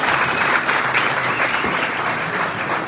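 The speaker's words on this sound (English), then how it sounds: "Let's give a round of applause to the staff." Audience applause for the catering staff at a New York GOP convention dinner, a dense, steady wash of many hands clapping that holds for about three seconds at close range with no talk over it.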